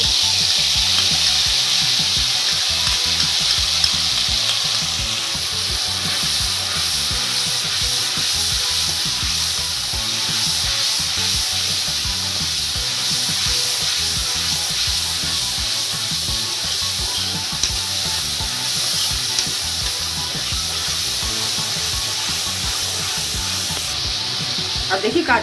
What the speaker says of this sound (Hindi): अब देखिए मसाले को डाल के मसाले को भूनेंगे।